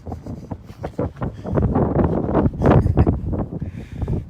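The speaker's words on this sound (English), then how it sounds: "it's windy out here" Gusty wind rumbles and buffets outdoors, rising and falling in broad bursts with a faint rustle above it, loud and close.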